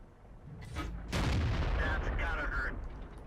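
Tank cannon fire in the World of Tanks video game, a heavy boom that rolls into a loud sustained blast and rumble, with a gamer talking over it.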